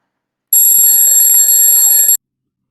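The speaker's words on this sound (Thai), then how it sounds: "ต่อมาคือเสียงนาฬิกาปลุกค่ะ" A continuous, shrill electronic alarm clock ringing steadily for under two seconds, loud and close, then cutting off abruptly into silence.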